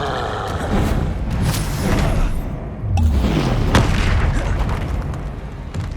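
Confringo fire spell blasting in the Hogwarts Legacy video game: a dense run of loud booming explosions and crackling bursts, with one heavy impact near the middle rolling into more rumbling blasts.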